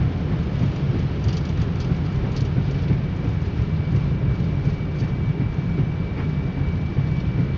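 A Lufthansa airliner landing at Lisbon roars with engines in reverse thrust, a steady heavy rumble and wash of noise heard from inside the aircraft, with a faint tonal whine running through it.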